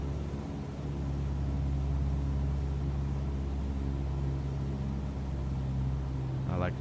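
A Cessna 172SP piston engine in Microsoft Flight Simulator 2020 droning steadily as power is eased back, a continuous low hum with no talk.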